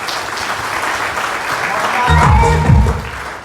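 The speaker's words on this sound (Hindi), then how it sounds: "जोरदार तालियां हो गया भाई" An audience at an event applauds, a broad sustained wash of clapping that swells louder toward the end, with a voice speaking over it partway through.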